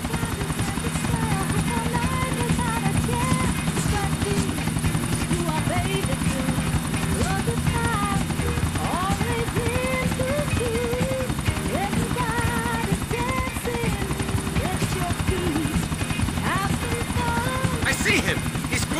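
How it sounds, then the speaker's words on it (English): A video game helicopter with a loud, continuous rotor thrum that stays steady for the whole stretch, while characters talk over it. "Over by where we pick this chopper up."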